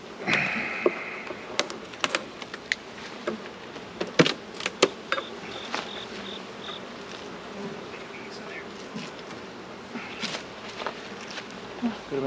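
Honeybees buzz steadily around a hive, a dense close swarm drone with occasional sharper passes near the listener and faint handling clicks underneath.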